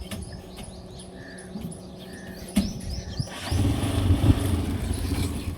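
A rickshaw engine runs steadily while the vehicle is moved, growing louder and rougher partway through, with faint birdsong in the background.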